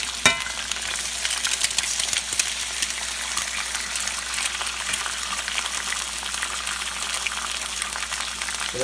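Eggs fry in a hot pan beside steak for a keto steak-and-eggs meal. A loud, steady, close crackling sizzle runs throughout with no talking.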